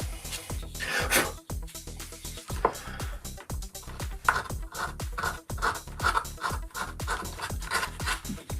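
Steady scratchy rasping of sandpaper rubbed over hand-carved wood, repeated back-and-forth strokes, close and continuous.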